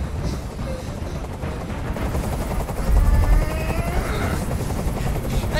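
Helicopter in the video game Detroit: Become Human, a loud, close rotor thump with a low throbbing rumble that swells midway and keeps pounding, with faint game effects layered over it.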